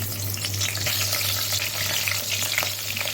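Sizzling and frying of a large garlic clove in a hot pan, a steady crackling hiss with a low hum underneath, close and continuous without speech.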